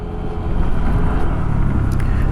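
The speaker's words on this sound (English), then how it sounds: "Watch out, fast cars coming." Fast cars speed past on a road beside a school and playground, a steady loud engine rumble and tyre roar sustained close by throughout.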